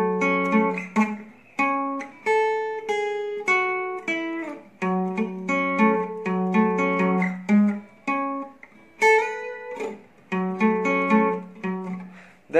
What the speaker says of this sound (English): Now if I play the part 1 and part 2 together, it will sound something like this.